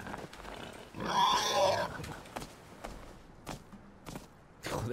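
Pig attacking in the survival game Rust: a loud grunting, squealing burst near the start, then scattered thuds and footsteps-like knocks, with no talking.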